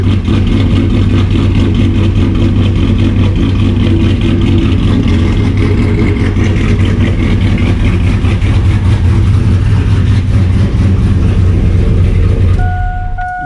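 Modified 2002 Chevrolet Silverado pickup idling up close, its loud, throbbing low rumble steady and continuous for the whole stretch, rough enough to shake the truck bed.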